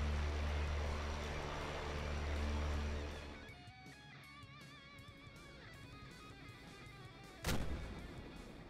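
A German 88 Flak 18 anti-aircraft gun fires in a combat flight simulator, a steady droning hum giving way to one sharp, loud blast around the end, followed by a fading rumble.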